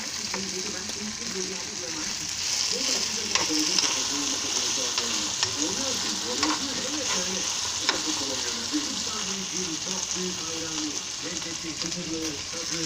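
Tomatoes go into a hot pan of chicken sauté, raising a loud, continuous sizzle and bubbling frying sound with occasional stirring clicks throughout.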